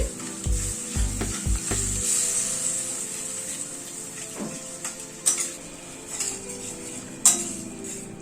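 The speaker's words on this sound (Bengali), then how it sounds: "আর দইটা একটুখানি সমানে নাড়তে হবে দইটা দেওয়ার পরে" Yogurt sizzles in a pan over a low gas flame as it is stirred, a close, continuous hiss. A few low thumps come first, and then sharp metallic scrapes and clinks of a spoon against the pan cut in from time to time.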